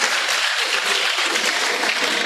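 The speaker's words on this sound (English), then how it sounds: "you should give yourself a round of applause for your performance today" Steady applause from an audience at a university visit, dense continuous clapping filling the whole stretch at an even level with no voices over it.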